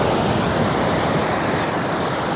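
Ocean waves wash steadily onto a beach, a continuous broad roar of surf with some wind rumble, loud and unbroken throughout with no voices.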